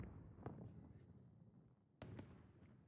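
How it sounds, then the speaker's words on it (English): Fireworks go off at a circus in the video game Crimson Desert: two faint, distant pops with crackling tails, roughly a second and a half apart, over quiet background ambience. "Fireworks at the circus are going off."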